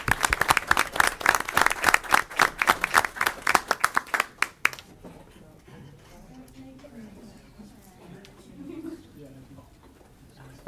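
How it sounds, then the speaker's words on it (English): An audience at a Trenton city council meeting claps in a loud burst of applause lasting several seconds, then it cuts off into a quieter room with low murmuring and shuffling. "One more round of applause for everyone here tonight."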